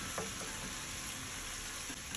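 Tomato paste frying and sizzling in a pan, loosened with a splash of hot water, gives a steady, dense hiss that runs unbroken and close throughout with no talking.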